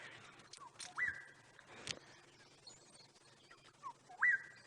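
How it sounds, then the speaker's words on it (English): Wild bird on an African safari drive giving a whistling call, two rising whistles a few seconds apart, moderately near against quiet bush background. "you might be hearing the beautiful sound of a bird call. Every now and again he whistles."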